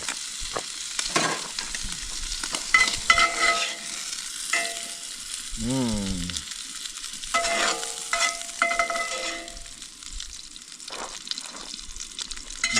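Grouse meat frying in butter and oil, a steady sizzle with spatula stirring and scraping throughout and a few clinks of utensils, close and fairly loud, with no talking.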